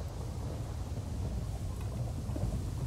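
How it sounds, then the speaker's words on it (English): Thunderstorm in Minecraft with the Localized Weather Mod, a steady, loud low rumble of thunder mixed with rain noise that fills the clip without a break. "this storm has to be weakening now"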